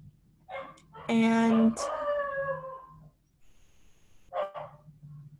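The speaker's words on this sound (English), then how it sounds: "hopefully you can't hear my dog" A dog barks and lets out a drawn-out howl in the background of an indoor room, with short bursts coming and going while a person talks.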